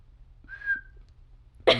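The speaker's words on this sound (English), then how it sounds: "That was a bad whistle." A single short, thin whistle from a person, rising slightly and fading after about half a second, followed by quiet and a brief breathy noise at the end.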